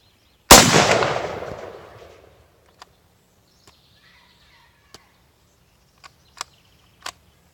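A single loud, sharp rifle shot from an M1916 Chilean Mauser cracks close by and rings out over about two seconds, followed by a few faint clicks and small knocks.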